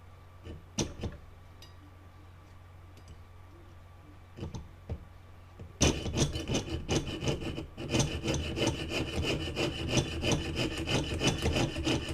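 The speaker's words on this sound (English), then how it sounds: "Now you just want to go steady with the sawing." Fine, rapid rasping strokes of a piercing saw cutting sheet metal for a leaf necklace start after a few light taps and continue steadily, close and fairly loud.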